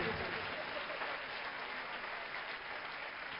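A congregation claps together in sustained, dense applause of thanks to God during a Divine Mercy talk, steady and even throughout with no talking.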